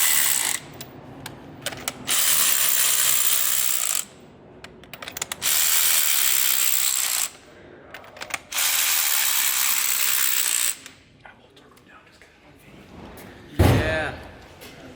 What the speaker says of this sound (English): What are you torquing them to, Nate?